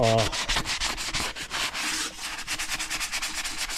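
Continuous abrasive rubbing and scrubbing of a sanding pad cleaning a light-truck tire bead, steady and close, with a brief tonal squeak at the start.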